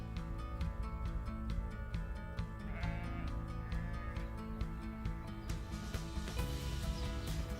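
Sheep bleating repeatedly, several animals calling close by over a busy, steady flock background, with no pause in the calls.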